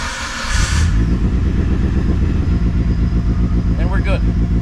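After a brief burst of noise, a car engine catches and settles into a loud, throbbing idle close by, revving slightly, with a voice briefly audible.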